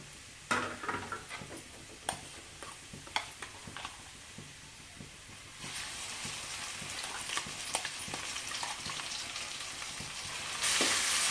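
Ginger paste sizzling and frying with onions in a pan for a mutton liver fry, a steady crackle with occasional stirring clinks, getting louder and hissier toward the end.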